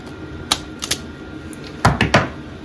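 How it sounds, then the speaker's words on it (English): Stripping the insulated end of an electrical wire during rewiring of a 1961 Bolens Ride-a-matic tractor: a few sharp, close clicks and snips, with a cluster of crisp snaps near the end. "Just need to strip the end of this wire quickly."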